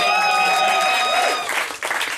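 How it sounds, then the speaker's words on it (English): A comedy club audience applauds and cheers loudly, with sustained clapping and whooping tones that give way to scattered clapping as the reaction fades. "Please put your hands together, whooping and cheering, please."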